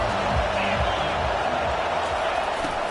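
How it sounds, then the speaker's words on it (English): A crowd at a college football stadium roars steadily, a dense loud wash of cheering and noise filling the whole stretch with no breaks. "This crowd bringing the energy and noise early."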